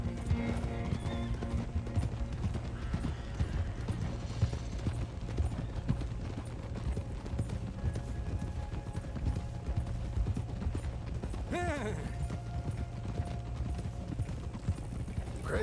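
Rhythmic clip-clop of horse hooves trotting steadily in Red Dead Redemption 2, continuous and moderately close, with a brief creak or whinny-like sound near the end.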